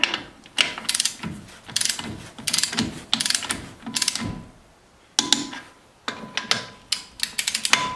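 A ratchet clicks in quick bursts while lug nuts are run down on a 2005–2010 Jeep Grand Cherokee WK wheel during a front brake job, with short gaps between each burst of rapid metallic ticking.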